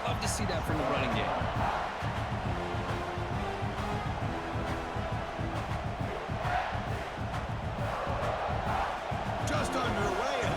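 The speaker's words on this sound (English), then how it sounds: "this home crowd is fired up and ready to make a difference today" Home crowd roaring steadily at South Carolina in a College Football video game playoff matchup against Tennessee, a dense, constant wall of cheering with a commentator talking over it throughout.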